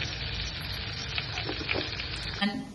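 Mustard seeds hit hot coconut oil in a pan as the base of a home-style fish curry. A close, steady sizzle carries scattered small pops and crackles over a few seconds.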